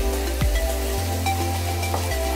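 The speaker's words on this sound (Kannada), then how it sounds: "ಬೆಳ್ಳುಳ್ಳಿ ಸ್ವಲ್ಪ ಎಣ್ಣೆಲಿ ಚೆನ್ನಾಗಿ ಫ್ರೈ ಆಗಬೇಕು" Garlic frying in a little oil for Andhra pappu gives a soft, steady sizzle over a low electrical hum.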